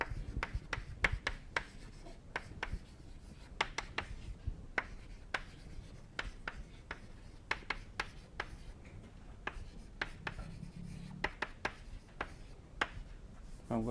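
Chalk tapping and scraping across a board as lecture equations are written quickly, a steady run of sharp ticks and scratchy strokes, close and moderately loud, with no talking.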